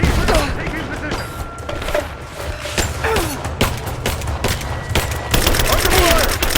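Rapid gunfire and bursts of automatic weapons in the Rise of the Tomb Raider video game, loud and dense with sharp repeated shots and booms, while shouting voices call out over the battle.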